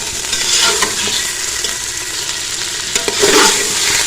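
Mutton cooks in kachnar masala in a hot pan, sizzling loud and close as it is stirred, with a dense, steady hiss and a few scraping bursts from the spoon.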